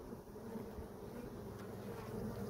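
Honeybees buzz around an open beehive during a hive inspection, a faint, steady droning hum that fills the whole moment without any voices.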